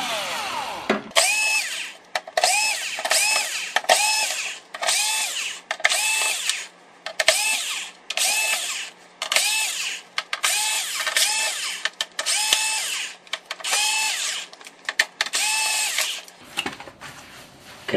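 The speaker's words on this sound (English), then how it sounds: "Get your drill or hand screwdriver, whatever you're using." A power drill backs screws out of an Xbox 360 case in about a dozen short bursts, each a whirring whine that stops abruptly. It is close and loud, with brief pauses between bursts.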